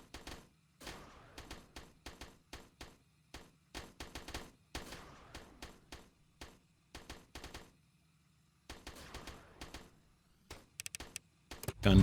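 A gun tower turret in the strategy game Project Astra Dominium fires in quick, crisp rattling bursts separated by short gaps, fairly quiet overall, with a louder cluster of shots near the end.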